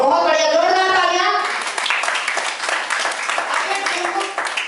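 Audience applause at a Modicare business meeting, a dense patter of clapping hands that swells after a voice speaks over the start and carries on steadily to the end.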